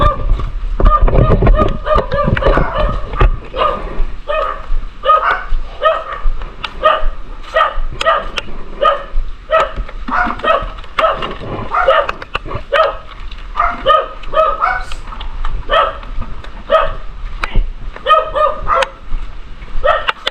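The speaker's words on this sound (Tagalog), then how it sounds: "Tahol kayo ng tahol." Several dogs bark over and over at close range, a loud, continuous run of overlapping barks and yaps that keeps going without a break.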